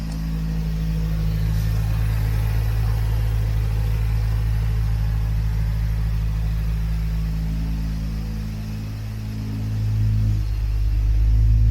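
A Nissan Skyline GT-R engine idles steadily with a deep, even rumble and a low hum, swelling briefly near the end.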